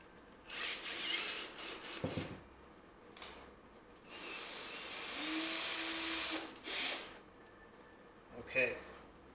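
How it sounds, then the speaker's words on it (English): A drill bores a 2mm pilot hole into the wooden body of a handmade electric bass guitar, with several short whirring bursts and one longer steady run, close by, with a few brief clicks between. "So I'm going to start with a pilot hole of, let's say 2mm."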